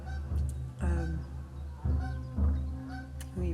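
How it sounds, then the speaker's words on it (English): Goose next door honking loudly and nearby in about six deep, nasal calls, some doubled, spaced irregularly with quiet gaps between. "You might be able to hear the goose that lives next door to me."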